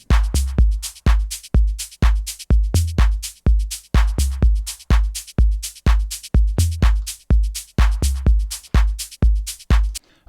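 A hi-hat shaker sample built from synthesizer white noise repeats in a steady groove, each sharp burst fading quickly, with tight, evenly spaced hits over a thumping low pulse and no voices.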